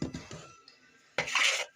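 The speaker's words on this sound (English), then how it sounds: "So I'm just going to mix that all together." A spoon clinks and scrapes against a bowl while mixing homemade taco seasoning with flour: a few quick taps, a short pause, then a louder, brisk scraping burst close up.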